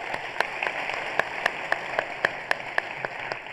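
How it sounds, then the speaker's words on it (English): Applause for a theater crew at an awards night, a thin patter of clapping punctuated by several sharp, distinct claps close by at fairly regular intervals. "Please give them a round of applause."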